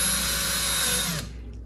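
A cordless drill runs at a steady whine for over a second, a close mechanical buzz with gear chatter that then cuts off and winds down abruptly.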